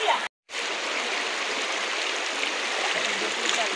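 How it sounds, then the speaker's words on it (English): A flowing river at an outdoor spot, its steady broadband rush of water continuous and fairly close, briefly cut to silence near the start before resuming evenly. "It's a river."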